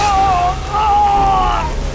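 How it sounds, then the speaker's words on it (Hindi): Heavy rain pours with a loud, steady wash of hiss and patter. A sustained wavering tone rides over the downpour throughout. "बहुत बारिश हो रही है"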